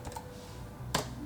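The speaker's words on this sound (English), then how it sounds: "And I type" Typing on a ProtoArc ergonomic wireless keyboard produces a few soft key taps followed by one sharper keystroke, close and fairly quiet over a low background hum.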